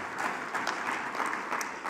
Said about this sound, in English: I think she deserves applause for that.